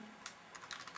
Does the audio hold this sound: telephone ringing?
no